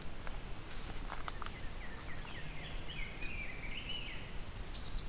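An eastern wood-pewee gives soft, slurred whistled calls at a distance in a hollow, mixed with other faint high bird notes over a constant insect-like background hiss.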